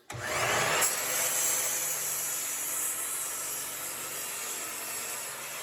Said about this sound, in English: I'm going to do a couple of cuts to test out how it is at max reach